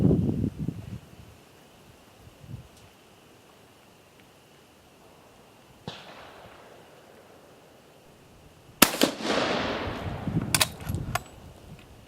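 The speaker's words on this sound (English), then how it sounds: "I'm going to put 2 rounds down here offhand and see how I do" Two shots from a Mle 1866-74 French Gras rifle fired offhand at an outdoor 50-yard range: sharp, loud cracks several seconds apart, each trailing off into a noisy outdoor decay, with soft rustling in between.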